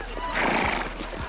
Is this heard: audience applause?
no